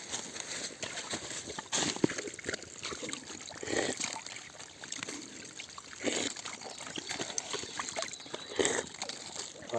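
A horse walks through a shallow mountain stream near a spring, hooves splashing and sloshing the water in irregular, fairly quiet bursts over a running trickle.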